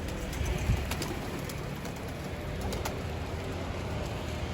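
Soft pigeon coos sit faintly in the background beneath a constant outdoor hiss and rumble on a rooftop, with a few faint taps.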